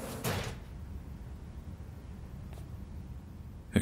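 A sliding door whooshes open once near the start in Cyberpunk 2077, a short airy burst over low background hum that then settles into quiet ambience.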